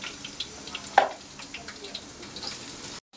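Onions fry with salt in a pan on a home stove, giving a soft, steady sizzle with a sharp clatter early on, before the sound cuts out at the end.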